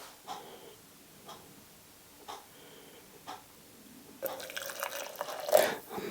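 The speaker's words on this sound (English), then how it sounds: "Let's put water inside." Water being poured into a pot to make tea: a few isolated drips and ticks, then a loud, steady rushing pour that fills the second half.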